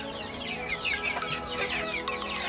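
Ayam ketawa laughing chickens cluck and chatter together while being fed softened bread, a busy overlapping flock of close, repeated calls with no talk.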